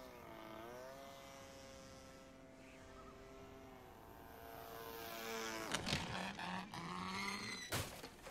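A propeller airplane engine in a video game drones steadily with a rising and falling pitch, then sharp thumps and harsh bursts of a crash break in toward the end.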